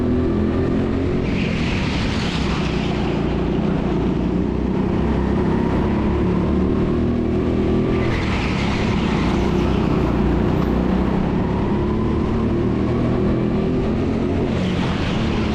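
Go-kart engines race around an indoor karting track, a steady loud engine drone with rising and falling revs as karts pass through bends, continuous throughout with no talk.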